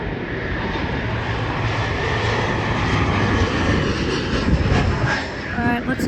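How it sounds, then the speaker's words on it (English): A Delta Airbus A330-900neo jet airliner at Seattle-Tacoma airport roars past as a loud, broad rumbling jet-engine wash that holds steady and swells slightly, with brief voices heard near the end. "I see the buttering machine over there, the A330. It's Delta A330-900 Neo."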